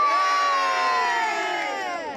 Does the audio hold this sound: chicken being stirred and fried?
no